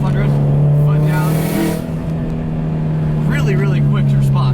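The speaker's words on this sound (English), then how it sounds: "external wastegate gets louder depending on how far I push my pedal down." A Subaru STI with an external wastegate pulls hard at full throttle around 4,500 rpm, a loud, steady engine drone with a strong low tone and a whooshing wastegate edge, running continuously under a voice talking over it.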